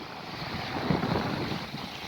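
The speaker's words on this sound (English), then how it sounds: "It's giving me nice big fat waves now." Wake waves from a passing Border Force vessel slapping and washing against a sailboat at night, a close, rushing surge under wind noise.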